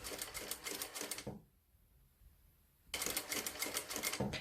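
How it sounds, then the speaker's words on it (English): Sewing machine stitching near the edge of a dress's back bow part: a fast, steady mechanical whir that runs, pauses briefly, then starts again, close and clear with no talking. "you stitch near the edge, keeping this notch with the end, with the edge"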